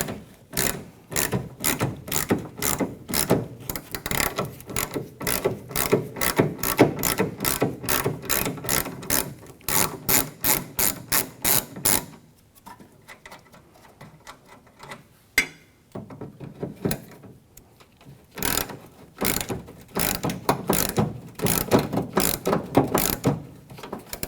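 A hand ratchet undoing two 10mm bolts on a 1997-2003 Ford F-150 tailgate: rapid, close clicking strokes in long runs, a quieter pause in the middle, then more fast ratcheting. No one speaks.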